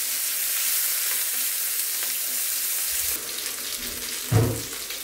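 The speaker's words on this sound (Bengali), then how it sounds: "পেঁয়াজ আর রসুনগুলো নেড়ে দিব। আর এদিক দিয়ে মাছটাও ভাজা হচ্ছে" Onion and garlic frying and being stirred in a pan beside hilsa fish, a steady close sizzle with a louder burst of stirring and clatter near the end.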